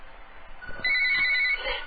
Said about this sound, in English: There's the caller calling in.